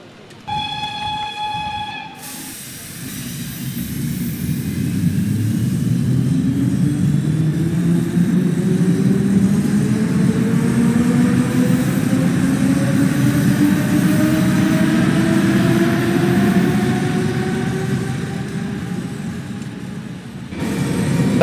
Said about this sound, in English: I'm going to get a somewhat cinematic shot of our train leaving